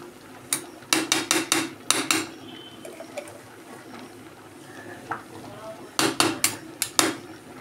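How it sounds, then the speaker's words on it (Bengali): A metal lid clatters shut on a pot of khichuri cooking with coconut, rose water and ghee: bursts of rapid, close metallic clanking, a quieter middle stretch with faint voices, then another clattering flurry. "বন্ধ করে দিয়েছি"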